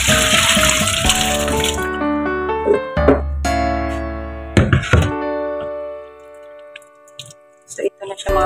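Boiled hofan rice noodles are drained in a kitchen, with water pouring and splashing loudly at first, then scattered clunks, drips and handling noises as the flow stops.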